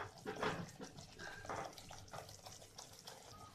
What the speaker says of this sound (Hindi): आधी कटोरी पानी डालेंगे इसमें।